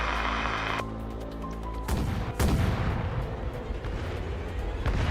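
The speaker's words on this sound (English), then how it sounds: "Oh, bombardment." Heavy artillery bombardment rumbles through a tense Arknights battle scene, with repeated deep booms and sharp blasts layered over a sustained low roar and tonal drone. The explosions arrive one after another at close range and stay loud throughout.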